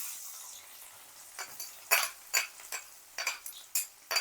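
Chopped onion going into spices frying in hot oil for chicken keema, a quiet sizzle followed by a run of sharp metallic spatula scrapes and clinks against the pan, close and uneven.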